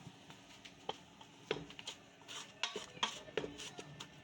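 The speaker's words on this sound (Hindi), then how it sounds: "अब हम डोई की मदद से अच्छी तरह से दाल और गोश्त को इस तरह से बारीक बारीक कर लेंगे" A ladle mashes cooked lentils and beef in a pot for beef shami patties, making faint, irregular metallic clinks and soft scraping taps.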